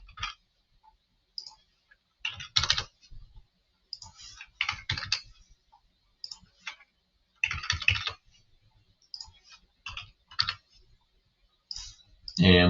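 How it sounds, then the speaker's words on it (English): Keys clatter on a computer keyboard in short bursts of rapid clicking, separated by brief pauses, as accounting figures are entered into a spreadsheet; the sound is close and fairly quiet, with no talking. "So I'm just going through and typing these in here."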